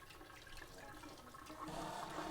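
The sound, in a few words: rinsing a lemon zester under running water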